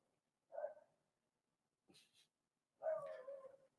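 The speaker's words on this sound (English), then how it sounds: "he barks at everything." A small dog barks in two separate bursts: a short yap near the start and a longer, louder run of barking near the end, moderately close, with quiet gaps between and no talking.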